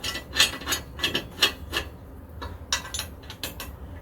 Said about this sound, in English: Now I've got to just bolt the wedge on, which I've welded to a plate with captive nuts